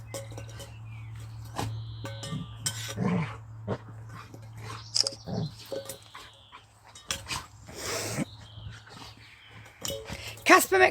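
A pet dog named Casper moves and makes small noises around a home, among clinking cutlery and dishes and scattered bumps, with someone talking intermittently nearby.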